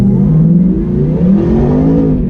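Supercharged 2018 Ford Mustang with a Stage 2 Whipple blower and 10R80 transmission, revving loudly and steadily close by during a throttle test, a deep sustained engine roar with rising tone.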